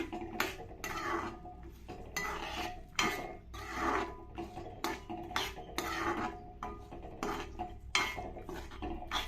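Roasted rice and soaked chickpeas being mixed in a pot, with a utensil rasping and scraping in steady repeated strokes, close up and with no voices.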